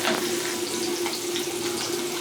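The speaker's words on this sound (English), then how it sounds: "let's saute your onions, throw it in" One medium sliced onion sizzles in a hot pan, giving a close, steady, hissing fry with no talking.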